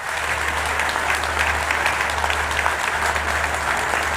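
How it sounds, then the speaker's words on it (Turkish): Loud, dense applause from a crowd at a nuclear power plant ceremony marking the first fuel delivery, continuous clapping over a low steady hum, with no talking. "Güçlü kuvvetli bir alkış rica edeceğiz"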